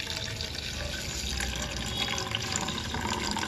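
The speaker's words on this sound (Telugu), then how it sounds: "అవే వాటర్ వేసుకోవాలి" Water, the saved rinse water from washing red lentils, pours steadily into a cooking pot for red lentil dal rice, a continuous close splashing gush with no talk.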